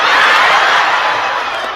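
An audience at a humorous Islamic sermon bursts into loud, dense applause and cheering, a short continuous roar of clapping and voices that eases slightly toward the end.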